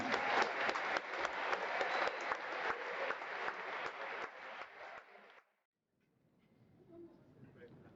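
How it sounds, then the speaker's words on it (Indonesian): Applause in a church for candidates receiving the sacrament of Confirmation: a dense, steady wash of many hands clapping for about five seconds, then it cuts off abruptly, leaving a quiet room with a faint murmur. "Tepuk tangan untuk mereka semua."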